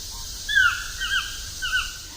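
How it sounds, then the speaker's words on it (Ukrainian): Yellow-billed toucans perched in a tree at a zoo, calling in three short, clear, croaking notes that sound fairly close and stand alone over a quiet background. "Замість звичних для нас пташок на дереві сидять жовтороті тукани. Послухайте, як вони співають."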